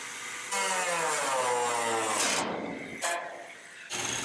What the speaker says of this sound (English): just get the sawzall, leave about a 1/4 inch